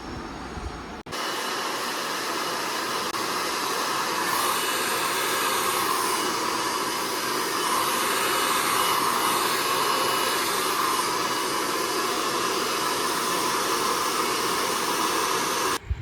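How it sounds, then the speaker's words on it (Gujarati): A handheld hair blow dryer runs continuously in a beauty parlour, a steady loud whooshing roar with a faint motor whine that holds at an even level once it switches on, with no talking. "એમને ખાલી બ્લો ડ્રાયર જ કરવાનું હતું"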